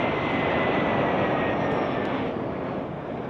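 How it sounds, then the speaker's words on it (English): A jet airliner roars overhead while landing at Las Vegas airport, a broad steady rumble that fades slightly toward the end. "These at Las Vegas, obviously, planes just come in."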